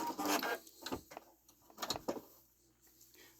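A Singer Quantum Stylist 9960 sewing machine back stitching runs in two short mechanical bursts of rapid needle clatter and whirring, separated by a quiet pause, close and fairly soft.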